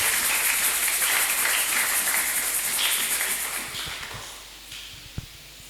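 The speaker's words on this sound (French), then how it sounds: "Est-ce qu'on peut acclamer, applaudir le Seigneur" A congregation at a church service claps and cheers in sustained, dense applause that fills the first few seconds, then fades out toward the end.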